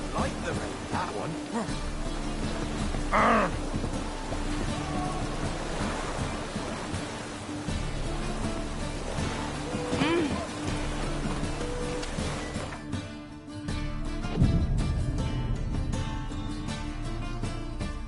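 Rain in a video game with Geralt makes a continuous broad wash of noise that swells and settles like surf, with occasional low thumps and faint voices in the background.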